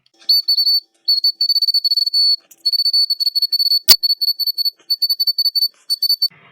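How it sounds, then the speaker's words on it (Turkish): A shrill little plastic toy whistle is blown in rapid trilling bursts, repeated many times with short pauses, close and loud, with a sharp click midway. "bu şekilde düdüğü elde etmiş oluyorduk ve aynı zamanda ses çıkartıyor bakın"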